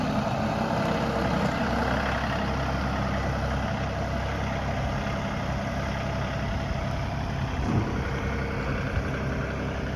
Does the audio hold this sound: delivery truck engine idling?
yes